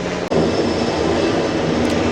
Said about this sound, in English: There's a helicopter landing like right over there.